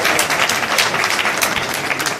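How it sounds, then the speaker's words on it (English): Audience applause at a book launch event in Kenya, a dense, steady wash of many hands clapping at close range throughout, with no speech over it. "A round of applause for Angela"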